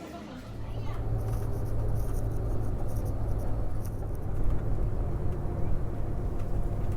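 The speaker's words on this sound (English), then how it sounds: "This was the lovely bus ride from Ullapool to Inverness on the morning of the 16th" Steady low rumble of a bus riding from Ullapool to Inverness in Scotland, a continuous engine and road drone heard from inside the vehicle with faint cabin noises.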